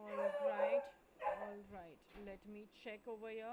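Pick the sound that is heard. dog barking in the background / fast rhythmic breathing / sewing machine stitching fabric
dog barking in the background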